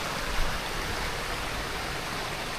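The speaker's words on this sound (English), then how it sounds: "A waterfall. See, there's a windy road crossing over this lovely little stream." Small hill stream and waterfall beside a winding country road in a valley, a steady broadband rush of running water, fairly faint and constant with no voices.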